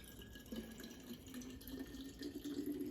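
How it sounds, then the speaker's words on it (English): Kombucha is poured in a continuous stream into a brewing vessel to top it up for a secondary brew. The pitch of the filling rises as the vessel fills, with no talking. "I can just kind of come on over here and fill it the rest of the way with kombucha."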